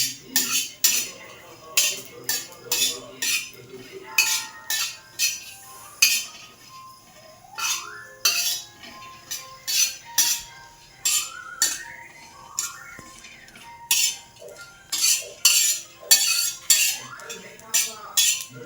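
Grated coconut stirred and roasted in a metal pan, a spoon scraping and clinking against the pan in steady repeated strokes, close and clear with no talk.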